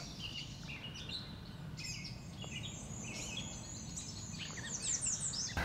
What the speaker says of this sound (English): The only sound you'll hear is the chorus of songbirds that serenade your every step.